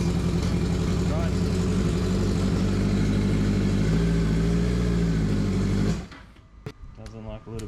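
Yamaha R1 motorcycle fitted with a turbo, engine running rough with a misfire, a loud steady uneven drone with throttle blips that cuts off abruptly near the end, leaving quieter clicks and faint mechanical noise.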